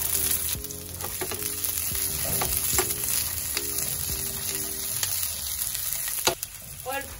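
Onion hits a hot sauce with garlic on high flame, giving a loud continuous sizzle with stirring scrapes and clinks of a utensil against the pan, and no talking.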